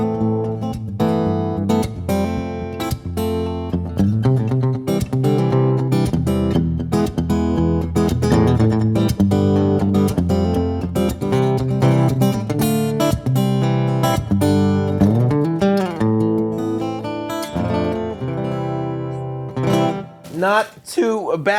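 Guitar strummed and picked through a Bose L1 Pro8 portable PA with treble raised, bass lowered and reverb added, a steady full-band chord passage played loud and close, dipping briefly near the end.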